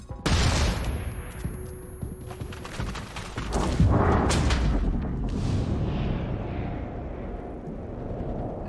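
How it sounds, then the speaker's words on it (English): A grenade explosion in XCOM: Chimera Squad bursts loudly, then a long rumbling fusillade of gunfire and blasts rolls on and slowly fades, loud and close, with no talk over it. "Grenade out!"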